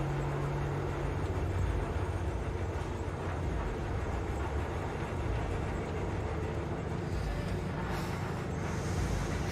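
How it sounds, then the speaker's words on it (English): Train in Cyberpunk 2077 rumbling alongside at steady volume, a continuous dense roar with rail clatter and road noise from a moving car, no pauses throughout. "So we're just driving by the train at the moment."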